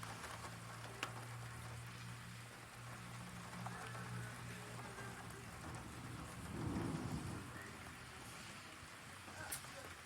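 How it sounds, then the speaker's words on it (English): Heavy thunderstorm rain in Sioux Falls, South Dakota, during flash flooding, a steady hiss of downpour with a low rumble of thunder swelling midway, all fairly faint and distant-sounding. "Well, I knew there was some heavy rain downpours"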